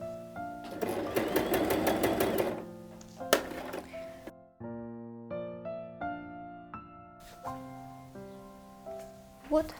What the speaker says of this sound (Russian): Заканчиваю свой шов.